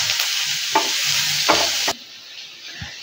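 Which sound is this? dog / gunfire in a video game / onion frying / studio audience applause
onion frying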